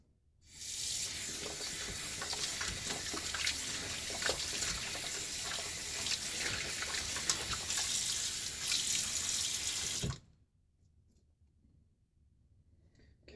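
Tap water runs steadily into a sink while shaving gear is rinsed, a close, even hiss for about ten seconds before stopping abruptly and leaving near silence.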